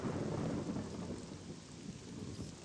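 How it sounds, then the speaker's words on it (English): Steady heavy rain hisses with a low rumble of thunder rolling underneath in the video game Morrowind, continuous and fairly close, no voices. "Great, it's raining."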